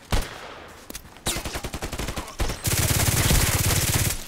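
Gunfire in the online shooter Contract Wars on the Old Sawmill map: a single sharp shot, then a rapid rhythmic string of rifle rounds, followed by a dense, sustained burst of automatic fire, loud and close.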